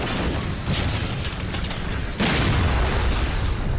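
Grenade blasts in Halo 4 during a firefight, heavy booming bursts with a sharp jump in loudness midway, dense and close with no talk.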